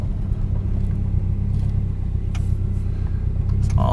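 Car engine rumbling steadily while driving on a short test run, a constant low drone with slight revving throughout, heard from inside the cabin.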